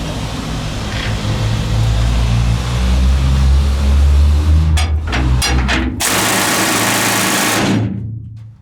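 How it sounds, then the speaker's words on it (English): A pneumatic rock drill, similar to a jackhammer, works in a mine. A low rumble gives way to a few short bursts, then a loud, sustained hammering roar that stops abruptly, with no talking. "It's kind of like a jackhammer. So this is what we were drilling out."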